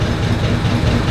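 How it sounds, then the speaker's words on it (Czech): An amusement park train at the Prater in Vienna starting its ride, a loud, dense rumble of wheels and engine with rhythmic low thumps close by. "Tak jsme nastoupili do vlaku a můžeme vyrazit."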